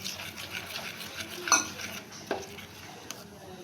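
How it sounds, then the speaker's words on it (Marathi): Besan batter for besan poli being whisked in a bowl while a tawa heats, with soft rhythmic stirring and a few sharp utensil clinks against the vessel. "चांगलं फेटते"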